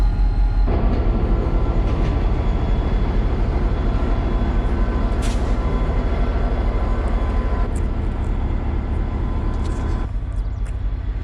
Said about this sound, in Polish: Ale zobaczcie jaka lokomotywa.